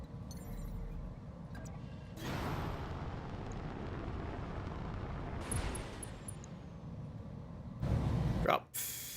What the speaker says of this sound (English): Drop 50 missiles on it.